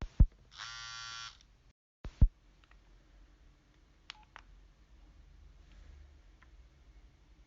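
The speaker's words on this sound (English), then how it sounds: "when this thing gets voicemails. It makes this just horrifying noise" LG VX5500 flip phone sounding its voicemail alert: a sharp click, a harsh buzzing tone about half a second long, then more clicks and faint beeps, close and alone in a quiet room.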